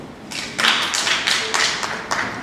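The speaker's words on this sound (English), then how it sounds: "Just a reminder to the audience to please hold your clapping till the end." An audience at a school board candidate forum claps, a short burst of scattered hand claps from a modest crowd, fairly close and lasting about two seconds.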